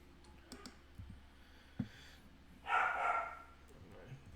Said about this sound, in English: partially because the dog's just going batshit in the other room.